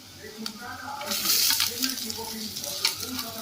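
Cut green beans are tipped into onions frying in a pan and stirred, bringing a burst of sizzling and scraping that settles into softer frying, while someone speaks throughout.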